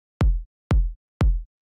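A punchy, deep, unprocessed kick drum sample for house music strikes three times at an even pace, each hit short and booming with a fast attack and quick decay, isolated with silence between.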